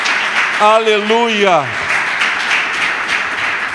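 A church congregation applauds continuously during a worship service, dense clapping filling the room while a preacher's voice rings out over it.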